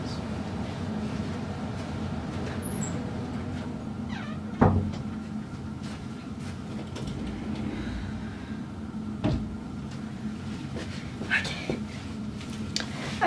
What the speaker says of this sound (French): je vais juste fermer la porte